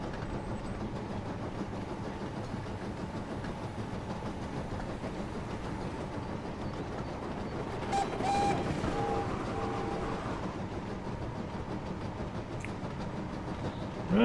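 A Dutch-liveried Northeastern tram rolls steadily along rails in a train video game, a continuous low rumble with faint clatter and a brief squeal partway through, no talking.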